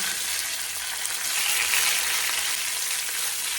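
Dried red chilies frying in hot coconut oil in a pan after mustard seeds have popped, a steady, close, bright sizzle that swells slightly midway and carries on without talk.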